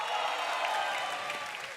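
A studio audience at a Stand Up Comedy Indonesia show claps in a brief, dense, steady burst of applause that fades slightly toward the end.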